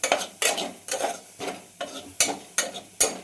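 Ajwain and fennel seeds are stirred in a hot pot off the heat, a spoon scraping in steady, repeated strokes with a light sizzle, close up and without talk.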